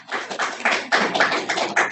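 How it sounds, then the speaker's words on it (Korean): A church congregation claps in a short burst of applause, a dense run of quick hand claps close by with no talking. "박수는 하나님께."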